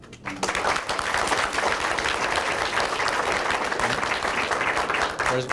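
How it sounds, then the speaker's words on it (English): Sustained applause from a crowd, steady clapping filling the space for several seconds at fairly even loudness. "Let's hear it in applause."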